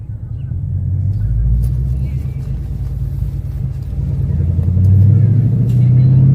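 A car on a test drive after fitting lowering springs, heard from inside as a loud continuous low engine and road rumble that swells slightly while accelerating.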